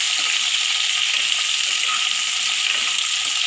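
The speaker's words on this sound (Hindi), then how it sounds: "अब हम इसमें गोभी डालेंगे और अब इसे हम तल लेंगे।" Cauliflower frying with cumin in a pan gives a steady, close hiss of oil sizzle that runs evenly throughout with no talking.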